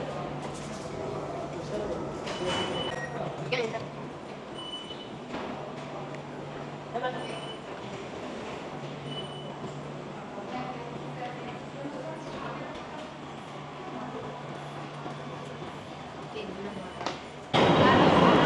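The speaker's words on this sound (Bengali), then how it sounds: "আমাদের মেট্রো এসে পড়েছে" A metro train pulls into a station platform, a steady rumble with a sustained low hum and rising rattle near the end, under station ambience and some talk.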